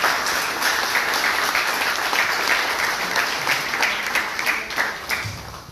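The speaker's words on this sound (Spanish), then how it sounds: "Démosle un fuerte aplauso," A crowd at the inauguration of a migrant care center gives loud, sustained applause, many hands clapping steadily and then tapering off near the end.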